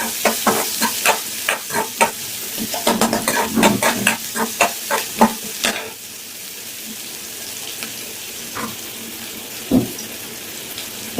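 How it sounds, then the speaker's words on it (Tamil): Ginger, garlic and onion sautéing in a pan, with a spoon scraping and stirring in quick clattering strokes over a soft sizzle, then the stirring fades to a quieter sizzle with an occasional tap. "இஞ்சி பூண்டு வெங்காயம் நல்லா வதங்கட்டும்."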